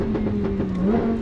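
A Lamborghini Huracan engine idles with a steady, close low hum and a slight rise in pitch near the end.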